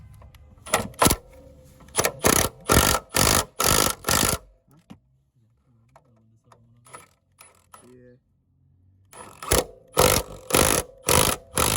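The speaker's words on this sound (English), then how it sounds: "Go ahead and tighten the bolts up the top." Coilover bracket bolts being tightened with a wrench on a 2017 Infiniti Q50 during a BC Racing coilover install: two clusters of rapid, loud ratcheting clicks, close up, separated by a stretch of quieter mechanical ticking, with no talking.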